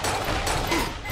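Rapid gunfire in the Halo or Doom video game crackles in a dense, continuous burst of shots for about a second, loud and close.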